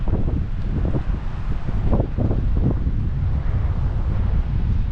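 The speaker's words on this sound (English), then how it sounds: "That wind has a bite in it this morning" Steady, blustery wind on a Gulf Coast beach at Orange Beach on a cold January morning, roaring continuously and close into the microphone with gusty rumbles throughout and no voices.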